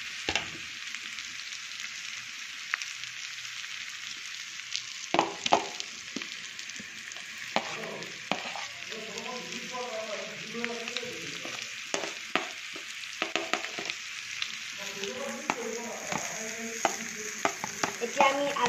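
Onions frying and being stirred in a pan while cooking a pork dish, with a steady soft sizzle and intermittent scraping stirs and clatter, fairly close and with no talking.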